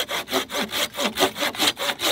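Opinel pull saw cutting into hard ash wood, a steady rhythm of about nine close, loud rasping strokes, each one swelling and fading with no voices.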